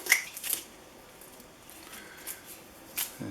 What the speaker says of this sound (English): it's time to remove the tape